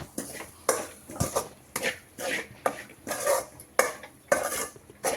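Grated fresh coconut frying in ghee in a pan for rava laddu, with a spoon scraping and clinking against the metal in steady, repeated strokes, close and fairly loud, no voices.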